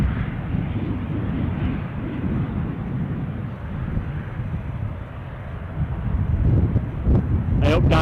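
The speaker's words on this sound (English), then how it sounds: "I was distracted by the sound of another ATR going somewhere" An ATR turboprop airliner passes at Aberdeen Airport, a steady broadband engine roar held throughout with wind buffeting the microphone, and a few sharp clicks near the end.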